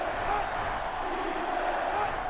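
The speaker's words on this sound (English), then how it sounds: "Crowd getting behind their team" A stadium crowd in the NCAA Football 06 video game roars in support of the home team during a BIG 12 Championship game, a steady, dense wash of distant cheering that holds at an even level throughout.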